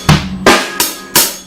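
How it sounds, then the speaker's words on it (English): Four sharp drum hits from a slow practice beat on a drum kit, evenly spaced and close, each a crisp strike with a short ringing decay. "you're actually going to be playing bass, snare, hi-hat, bass, snare, hi-hat, hi-hat."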